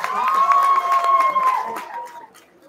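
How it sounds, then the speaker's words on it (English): Audience at a HindiUSA cultural event in 2024 applauding and cheering for children dressed as Krishna and Radha. The crowd noise is steady and fairly loud, with a sustained tonal whistle or voice riding over it, then it fades toward the end. "Give a big round of applause, guys, for these cute little Krishnas and Radhas"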